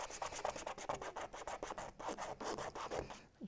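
Sandpaper rasps against the ends of a 3D-printed PETG part in quick, steady back-and-forth strokes, close and fairly loud, with no talking.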